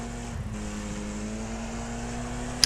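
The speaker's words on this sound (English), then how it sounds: "I can hear that engine of that car behind." A race car engine in the Wreckfest racing game drones steadily from a car trailing just behind, a sustained buzzing engine tone holding a constant pitch throughout.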